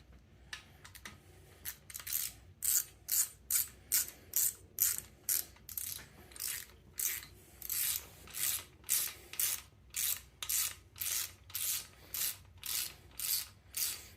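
A hand ratchet tightens a part into the block of a third-generation Camaro during an LS engine swap, giving about twenty crisp, evenly spaced bursts of clicking, close and clear with no talking.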